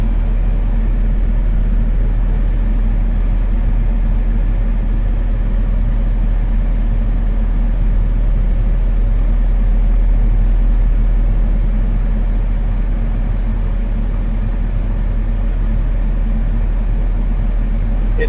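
A six-ton Huayee HY60C mini excavator with a Yanmar engine drives along, its engine a constant loud low drone with steady broadband rumble from start to finish.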